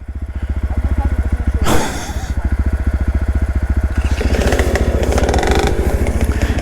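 A trail motorcycle's single-cylinder engine chugs in a rapid, even pulse at close range as it works along a narrow single track in Hongkou, China, with a brief burst of revving and clattering midway and rougher throttle toward the end.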